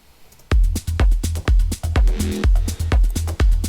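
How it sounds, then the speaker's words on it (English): Short, punchy low synth bass notes fire in a tight rhythmic groove, about a dozen clipped hits across a few seconds, loud and close with no voices. "often use low notes on the bass line, but this time I like make it short and rhythmical"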